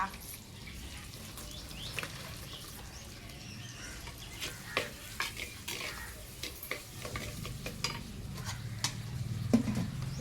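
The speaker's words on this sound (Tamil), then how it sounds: "இங்கே பாருங்கள் ஒருவர்களே வெங்காயம் வதங்கிட்டு இருக்கு" Onions sautéing in a clay pot for a fish curry: a soft background sizzle with repeated clicks and scrapes of stirring, close and fairly quiet, growing a little busier toward the end.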